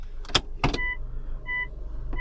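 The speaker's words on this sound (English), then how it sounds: "Now if I put the car into reverse" Toyota C-HR being shifted into reverse, a couple of soft mechanical clicks from the gear selector followed by a repeating electronic reversing beep chiming twice, quiet and close inside the cabin, no talking.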